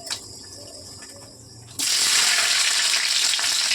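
Black cumin seeds and two dried red chillies hit hot oil for tempering, bursting into a loud, steady sizzle partway through after a quieter start, continuing close and unbroken to the end.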